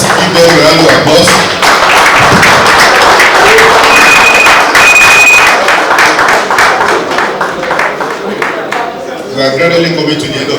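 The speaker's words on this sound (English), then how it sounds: "Let's give them a round of applause." An indoor campaign event crowd breaks into dense, sustained clapping that stays loud for about ten seconds before thinning out at the end, with a voice heard briefly over it.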